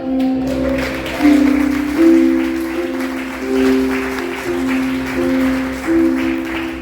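A church congregation applauds during a sermon, a steady wash of clapping across the whole span, with sustained tones from a keyboard or organ droning underneath.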